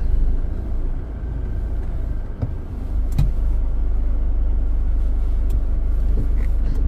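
A Force Gurkha 4x4 crawling slowly off-road in four-high: a steady, heavy low engine rumble runs throughout, with a couple of brief knocks and clunks partway through.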